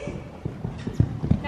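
Soft, rhythmic hoofbeats of a horse cantering, muffled thuds in a repeating pattern with low background rumble.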